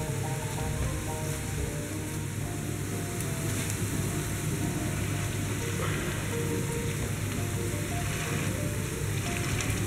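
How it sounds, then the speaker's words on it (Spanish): A sausage mixture sizzles in a frying pan with onion and garlic, a dense, steady crackling hiss that carries evenly throughout, close and with no talking. "esto luego lo vamos a añadir a la sartén junto con la cebolla y el ajo"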